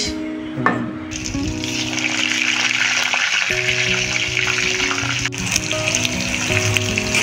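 Pointed gourd slices frying in a pan, a loud continuous sizzle and crackle heard alongside background music.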